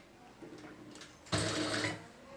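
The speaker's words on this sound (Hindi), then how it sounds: "इसको हम फोल्ड करके आधी पैर की सिलाई लगाएंगे।" A sewing machine runs a half-foot-width stitch along a folded round neckline. A faint low hum gives way to a brief, louder burst of machine whirring that lasts about half a second, then eases off.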